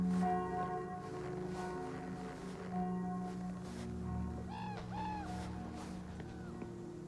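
A bell tolls in the video game We Were Here Forever, with deep sustained rings that overlap and decay slowly, accompanied by faint bird-like cries partway through.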